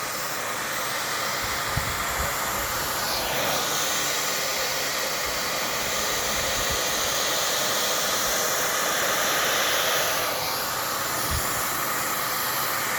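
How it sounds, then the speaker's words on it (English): Loud, steady rushing roar of a heat blower directed at acoustic foam panels as they expand, a continuous airy hiss close to the microphone with no speech over it. "You see it grow as you hit it with the heat."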